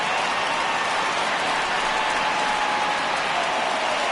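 A baseball stadium crowd in the MLB The Show 19 video game roars steadily as fans rise for a 3-2 count, a dense, loud continuous cheer with no break.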